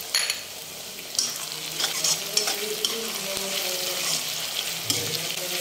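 Browned onions sizzle in a pan as fresh green chillies go in for a duck curry, with a steady bright hiss, stirring scrapes and a few clinks.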